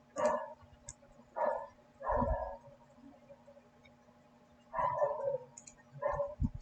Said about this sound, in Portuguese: Os cachorros atrapalham bastante.